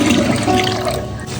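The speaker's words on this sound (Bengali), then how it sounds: "চালগুলো ধুয়ে নিচ্ছি" Rice grains being rinsed in water in a home kitchen, a steady close splashing and trickling of water that runs continuously throughout without pause.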